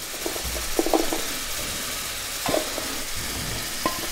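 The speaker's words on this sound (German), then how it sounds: "braten wir jetzt die Zwiebeln an, bisschen Sellerie, bisschen Maron" Onions, celery and chestnuts sizzling in a hot pot with scattered clinks and scrapes of stirring, steady and close, no voices.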